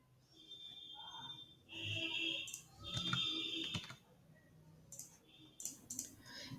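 Computer keys clatter in quick bursts while a captcha is typed, followed by scattered sharper clicks of a button, close and fairly quiet, with faint talk beneath.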